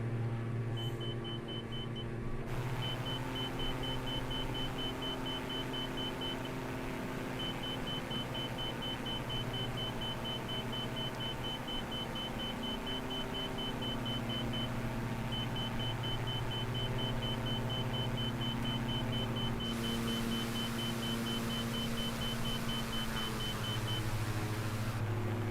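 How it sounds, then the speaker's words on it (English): A steady, evenly spaced overspeed warning beep from a flight cockpit in Microsoft Flight Simulator repeats through most of the stretch, with short gaps, over a constant engine and airframe rumble; no one speaks. "Sometimes that beeping sound will be there if you're overspeeding or if you're going really fast."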